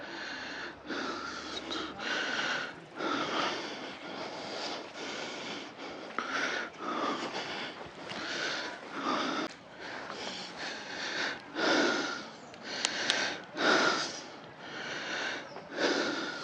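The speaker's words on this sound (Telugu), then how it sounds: "ఆయాసం వచ్చేస్తుంది" Heavy, rapid panting and breathing from someone trekking uphill on the Siddar Betta hill trail, close to the microphone and continuous, with rhythmic gasps and sniffs throughout and no speech.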